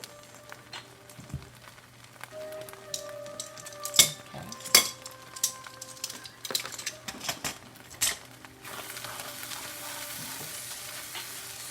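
Seasoning stirred into shrimp fried rice sizzling in a pan, a continuous frying hiss with sharp metallic scrapes and clacks of a utensil against the pan, close and clear with no talk.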